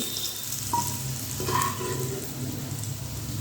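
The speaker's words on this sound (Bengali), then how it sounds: "গ্যাসের ফ্লেমটা মিডিয়ামে রেখে এই পেঁপেগুলো একটু ভালো করে ভেজে নিতে হবে" Raw papaya pieces frying in oil over a medium gas flame, a soft steady sizzle and crackle at low level with a few faint clinks, no talking.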